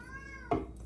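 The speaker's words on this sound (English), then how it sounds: "Can you hear this cat down here at my feet?" A cat down at floor level near a kitchen where chilies are being canned gives a short, fairly close meow, with faint background hum and clatter around it.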